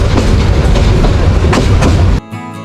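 Mahanagar Express train on the Dhaka to Chittagong line on a rainy night, heard from aboard as a loud, steady rumble and rattle of wheels on rails that drops away abruptly near the end.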